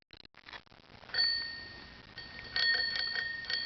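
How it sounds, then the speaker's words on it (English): A small bicycle bell rings with a bright metallic ding, struck twice, after some faint rustling and knocks. "Ring your bell for Mom."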